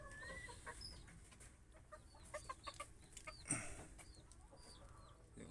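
Orpington chickens, mixed with other native hens, cluck in a series of short calls at moderate distance against steady farmyard background noise, with one louder squawk partway through.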